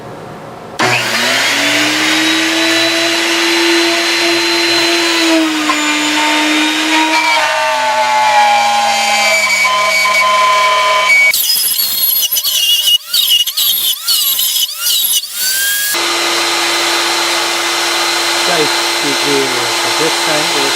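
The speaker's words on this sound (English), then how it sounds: "I'm fixing to cut out one of those circles with my router" A handheld router cuts a circle out of wood for a round window, a loud sustained whine with shifting pitch that holds steady for about ten seconds, turns rougher and choppier, then settles into a steady drone again.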